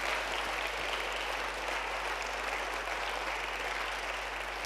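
A church congregation applauding and cheering at a Sunday service, a steady wash of clapping that holds evenly throughout, heard from a distance and fairly faint.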